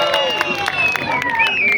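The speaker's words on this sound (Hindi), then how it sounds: "मुस्बत तब्दीली की सिंबल इन्हें उड़ा दीजिए बहुत जोरदार तालियों के साथ।" Audience applause at the inauguration of the Noor Jahan Bridge at Qamarwari in Srinagar, a short, busy burst of clapping with crowd murmur and whistle-like tones mixed in.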